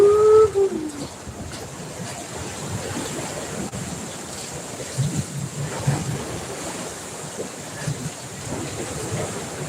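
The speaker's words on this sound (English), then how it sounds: "These are the waves from that stupid boat that went by." Wake waves from a passing boat lapping against the shore or hull at a lakeside campground, a continuous washing surge with wind noise over it and no speech.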